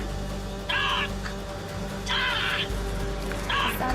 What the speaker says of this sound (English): Is that a raven?